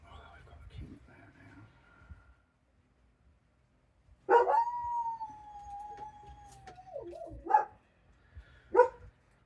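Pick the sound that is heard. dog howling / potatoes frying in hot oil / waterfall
dog howling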